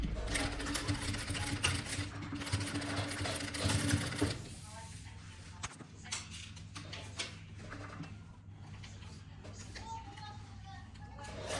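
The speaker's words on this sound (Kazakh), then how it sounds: "осының бір шетінен бастап келесі шетіне дейін 1 сантиметрлік тігіспен қосып аламыз" A sewing machine stitches a 1 cm seam along a bomber jacket, its loud rapid whirring running for about four seconds before stopping. Quieter handling clicks and a voice in the background follow.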